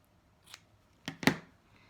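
Scissors snip weaving yarn shorter with a couple of quick, quiet, close cuts.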